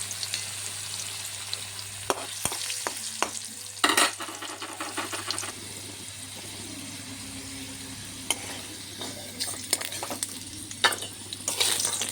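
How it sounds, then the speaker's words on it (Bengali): Katla fish fries in oil in a pan, a steady quiet sizzle broken by occasional scraping turns and clinks of a utensil, close and fairly faint. "মাছ ভাজা হয়ে গেছে, উঠিয়ে নিলাম।"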